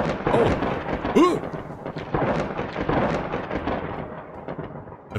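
Thunder follows a lightning strike in the video game Graveyard Keeper, a broad rolling rumble that keeps going for several seconds, with voices speaking over it.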